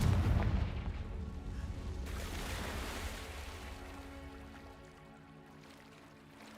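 A Confringo blasting spell explosion from the Hogwarts Legacy video game: a loud, deep boom at the start that rolls into a long, rumbling decay. Surf-like noise continues underneath and fades gradually.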